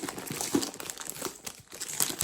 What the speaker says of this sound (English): I'm going to take it out of this plastic. I'm sorry for all the crinkling.